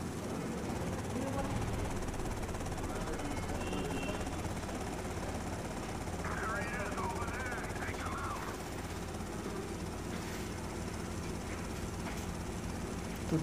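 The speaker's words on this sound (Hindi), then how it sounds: "क्योंकि हेलीकॉप्टर और टैंक में भीषण बमबारी हो रही है" Helicopter and tank battle in GTA Vice City: a continuous rotor-like drone with rattling machine-gun bursts and explosions mixed in, steady and dense throughout.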